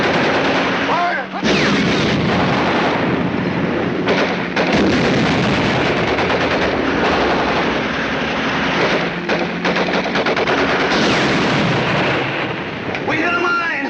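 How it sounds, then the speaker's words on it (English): Dense, loud gunfire and machine-gun bursts with heavy artillery booms roll continuously through a WWII battle scene, clustered volleys and sharp cracks overlapping, with shouted voices briefly audible in the din. "Keep firing, Heine."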